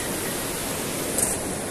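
River water flowing near a village in Nepal, a steady broadband rush like a stream or small waterfall, continuous and fairly close with no voices over it.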